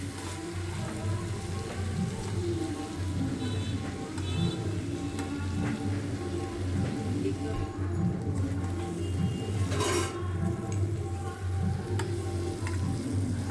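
Potatoes and masala with salt being sautéed for egg curry, a continuous soft sizzle with rain-like crackle and low stirring scrapes throughout, fairly quiet and steady.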